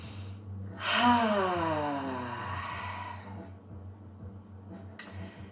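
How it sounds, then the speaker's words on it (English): One deep, audible breath with a voiced, sighing exhale comes during a quiet evening stretching session, fading slowly into a faint background hum. "I'm going to take a couple breaths"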